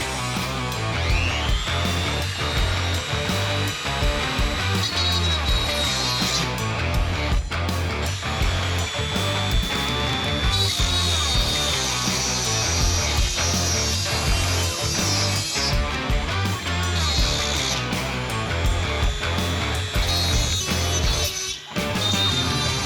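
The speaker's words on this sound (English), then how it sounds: "This is a carbide burr instead." A carbide burr grinds out a hole in a brake hard-line installation on a Foxbody, a continuous high-pitched whine with steady rasping texture that shifts pitch as the load changes, loud and close, running almost unbroken throughout.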